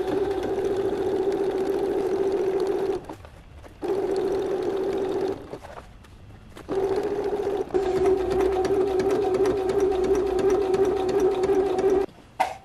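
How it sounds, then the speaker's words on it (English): A sewing machine stitches a leather jacket in three steady whirring runs, with two short pauses between them and a final stop near the end. The mechanical hum is close and loud, and no one speaks. "Now there are fantastic sewing machines that sew leather really, really well."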